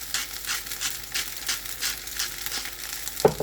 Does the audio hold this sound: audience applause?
no